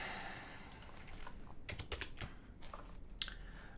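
Someone types on a computer keyboard while installing software on Linux Mint, the keys clicking in quick, uneven bursts that are close but faint over a steady background hiss, with no talk.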